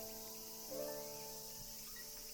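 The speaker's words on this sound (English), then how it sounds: "Cicadas in my ear." A steady, high insect drone of cicadas in a Vocaloid song hums continuously throughout, with a brief brighter swell near the start and faint tonal music underneath.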